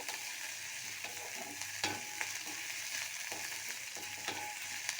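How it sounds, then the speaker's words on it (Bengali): Cauliflower frying in hot oil for gobi manchurian, a constant sizzle with the scrape of stirring and a few sharp spatula taps, close and steady, no voices. "এটা খুব সুন্দর করে ভাজা করব একটু"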